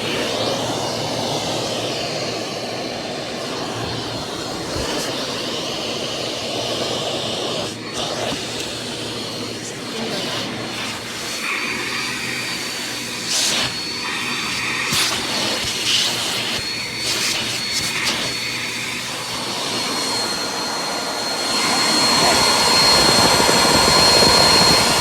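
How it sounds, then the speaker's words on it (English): A Bissell CleanView Compact Upright vacuum cleaner, model 3508 series, runs steadily indoors with a loud, continuous motor whine and airflow roar that grows louder toward the end. "This is my new Bissell 3508 series vacuum cleaner"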